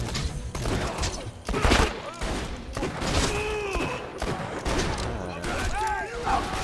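A pistol fires repeatedly in Borderlands 2, sharp close shots in uneven bursts amid gameplay effects with whooshing and chirping tones.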